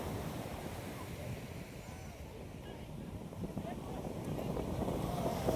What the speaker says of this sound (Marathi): लाट बघा कशी येते.